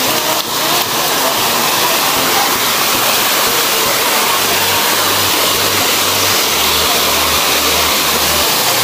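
Rushing water pours steadily at Mainit Falls, a hot-spring waterfall, in the rain, a loud, unbroken broadband roar close by with a low engine-like hum beneath it and no talking.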